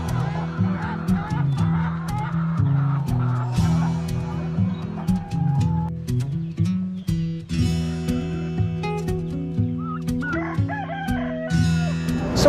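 Hens clucking and a rooster crowing on a farm, several birds close by in a busy overlapping chorus, with a steady low hum running underneath.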